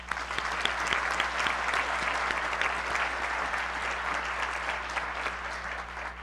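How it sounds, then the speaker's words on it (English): A crowd at the 2021 Colby-Sawyer College commencement gives a sustained round of applause, dense clapping holding steady throughout with no break. "Let's give them yet another applause."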